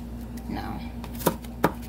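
A knife chops food on a board in a home kitchen, giving two sharp, close thuds about a third of a second apart. A low steady hum sits underneath.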